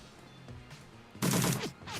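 SMG bursts in the video game Shadowrun Returns, a few soft shots followed by one loud rapid burst lasting about half a second and a brief softer tail.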